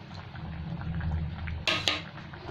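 Small fish and four slit green chillies drop into a simmering potato and ridge gourd curry: a steady low bubbling, then a brief splash and clatter as they go in before the simmer resumes.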